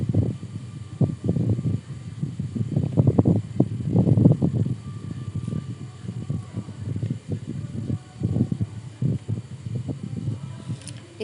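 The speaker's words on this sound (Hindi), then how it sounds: "अब ये मेरा सिलाई हो रहा है।" A sewing machine stitches a blouse in a series of short, uneven bursts of low mechanical whirring separated by brief pauses.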